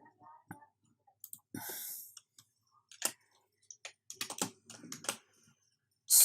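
Someone types on a computer keyboard in an MS Word session, making scattered close clicks and short bursts of keystrokes with pauses between them, plus a few mouse-like taps and a faint voice underneath.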